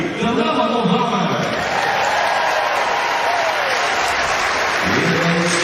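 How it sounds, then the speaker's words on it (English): At the US Olympic Track and Field Trials women's 400m hurdles final, a large stadium crowd applauds and cheers in a loud, continuous wash of sound, with an announcer's amplified voice echoing faintly underneath. "The crowd showing their appreciation"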